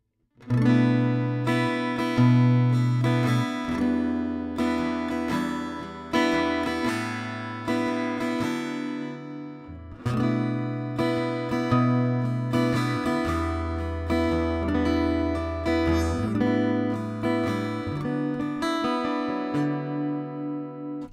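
Guitar played through its fourth pickup position: strummed chords and plucked notes with bright attacks and ringing sustain, a clear, fairly loud solo passage of changing chords with no talking.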